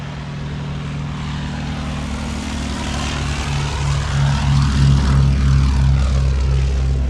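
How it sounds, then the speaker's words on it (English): A Westland Lysander's propeller engine roars as the aircraft takes off, a loud, steady droning hum with a strong low throb that swells and grows louder toward the end. "Lysander, take off fuel And some discretion, cigarettes. 1337. My discretion, Lysander rolling."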